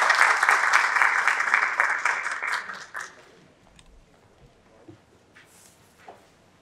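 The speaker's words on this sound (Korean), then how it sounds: "여러분의 큰 박수로 환영해 주시길 바라겠습니다" Audience at an energy innovation business forum applauds to welcome a speaker to the stage: dense clapping for about three seconds, then fading into scattered claps and quiet.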